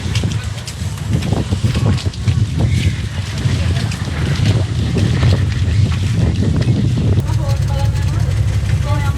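A boat crosses open water to an island near Jaffna, its engine rumbling low and constant under heavy wind buffeting, with voices talking nearby.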